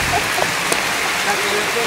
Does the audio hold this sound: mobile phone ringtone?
no